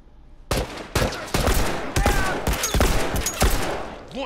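Gunfire rings out in The Last of Us, with a series of loud, close, sharp gunshots fired at irregular intervals of roughly half a second, each followed by a short echoing tail.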